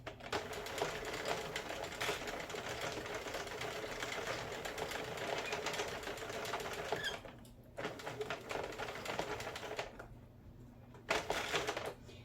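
A Sentro knitting machine cranks out rows of a neck warmer with a rapid, steady clattering rattle of plastic needles, pausing briefly twice before resuming.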